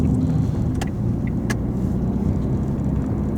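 A car drives behind during a driving lesson on a road with pedestrian crossings and parked cars, heard as a steady, close road and engine rumble from inside the vehicle, with no talking.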